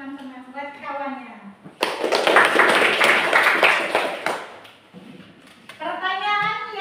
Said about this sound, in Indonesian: kasih tepuk tangan buat teman-teman